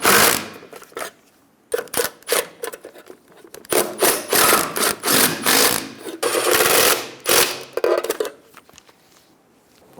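Wheel lug nuts are run down and snugged on a 2005-2015 Toyota Tacoma, heard as bursts of metallic ratcheting and clicking with short pauses between them, close and fairly loud.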